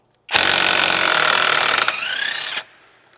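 A loud impact wrench removes a 30mm 12-point front axle nut on a 2009-2013 Toyota Matrix, rattling continuously for about two seconds, its pitch rising slightly before cutting off abruptly.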